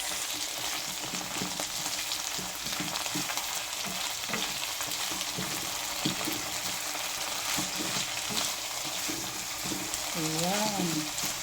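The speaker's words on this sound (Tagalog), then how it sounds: "Magluto tayo ng Baguio beans, ginisang beans." Green beans sauté in a hot pan with a steady, continuous sizzle and occasional stirring scrapes, fairly close and even throughout, with a faint tonal squeak near the end.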